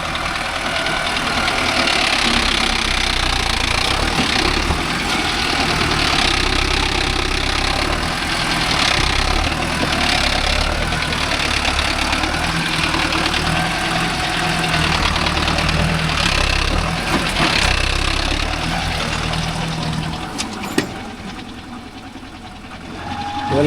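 A Mahindra Arjun Novo 605S tractor pulling a 42-blade Gomathi rotavator in a farm field, its diesel engine running steadily at a constant drone, with a brief clatter near the end.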